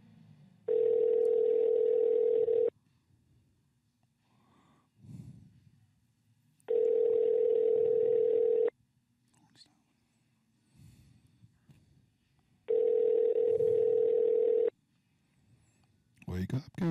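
Telephone tone heard during a phone call, sounding three times as steady two-second tones in an even repeating pattern, loud and clear, with soft murmuring and background noise between them.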